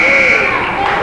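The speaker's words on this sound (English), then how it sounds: "It was at the buzzer." A basketball game-end buzzer blares at a girls' high school game, one loud sustained electronic tone ringing steadily for the full second while crowd noise and talk murmur underneath.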